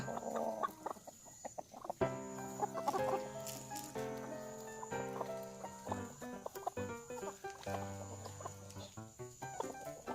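Betong chickens on a farm cluck and call repeatedly near and fairly loud, overlapping bursts with a faint insect-like hiss in the background and no talking.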